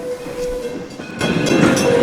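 A heritage railroad train at Greenfield Village rolls along the track past the railroad's storage facilities, a loud, close rumble with a steady tone that swells into heavier rattling wheel noise partway through.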